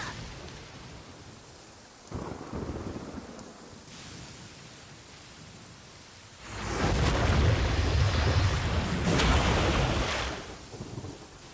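Rain and thunder in the video game Genshin Impact: steady rain hiss with low rumbling swells, building into a loud broad roar midway that fades at the end, no voices.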